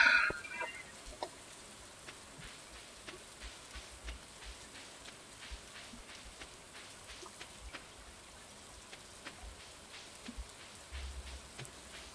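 Rain in Stardew Valley patters steadily with crisp individual drops over a soft hiss, a quiet continuous shower with a slightly louder burst at the start and no voices.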